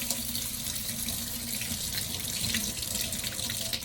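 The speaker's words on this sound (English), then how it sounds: "I take the water, I rinse it all off." Tap water runs steadily over a clarinet mouthpiece being rinsed under a faucet, a close, continuous splashing hiss with no talking.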